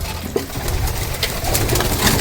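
Racing pigeons cooing in a busy loft, a dense, continuous murmur of soft coos with scattered wing flutters and clatter, fairly close.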